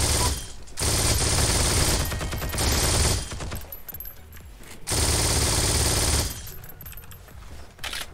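In Heroes and Generals, an MG42 machine gun fires long, loud, sustained bursts at close range, three main strings of rapid fire separated by short pauses, with no one talking.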